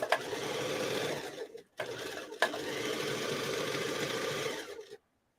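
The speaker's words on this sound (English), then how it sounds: "This is my crazy way of sewing sleeves on." A sewing machine stitching sleeves onto a garment runs in a steady, close whir, pausing briefly near the two-second mark, then continuing until it stops just before the end.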